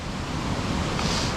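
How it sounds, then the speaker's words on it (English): Cucumber Falls waterfall and river at Ohiopyle, a steady broadband rush of falling and flowing water, close and continuous, with no voices. "That's the Cucumber Falls right there."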